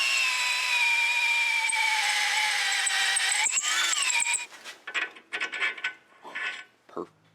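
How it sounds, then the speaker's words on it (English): A power drill whines steadily as a reamer bit cuts into a Jeep Pitman arm hole, the pitch wavering under load before the motor stops and scraping, clicking metal handling sounds follow. "by using a reamer compared to just a regular drill bit, it helps keep the hole aligned in the center"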